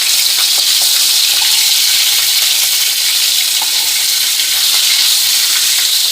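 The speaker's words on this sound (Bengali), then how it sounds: "মাছগুলো এবার একটু উল্টে দেব, যেহেতু বড় মাছ আমাকে ভালো করে একটু ভাজতে হবে" Large rohu fish frying in hot oil: a loud, dense, continuous sizzle that stays steady throughout, close by and with no voices.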